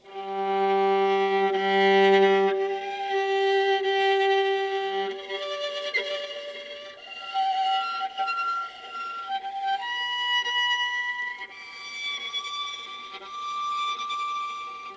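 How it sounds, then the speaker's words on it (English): A plucked string rings out a series of clear harmonic tones, each new note climbing higher, sustained and bell-like, one after another. "This is the overtone series, which sounds like this."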